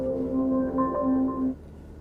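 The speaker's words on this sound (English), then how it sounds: "I'm going to play a test sound." Test tone from an Echo Auto plays through a car stereo: a steady sustained tone with a few brief higher pitched notes, lasting about a second and a half before cutting off to quiet cabin hum.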